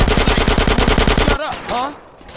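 Rapid automatic gunfire from the video game GTA San Andreas, a loud steady burst of evenly spaced shots for over a second, then stopping abruptly as a voice speaks briefly.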